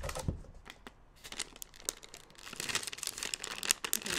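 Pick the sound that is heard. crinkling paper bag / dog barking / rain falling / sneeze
crinkling paper bag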